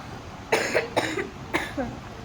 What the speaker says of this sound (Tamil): எனக்கு இருமல் வருதுடா